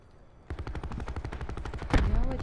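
Rapid automatic gunfire from a weapon in a video game, a fast even burst of sharp close shots starting after a quiet moment and continuing to the end, with a louder blast near the close.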